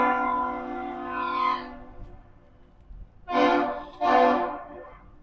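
Ship's whistle from the lake freighter Paul R. Tregurtha arriving at Duluth, Minnesota: one long, loud harmonic blast, then two shorter powerful blasts after a pause, ringing out across the harbor with no talking.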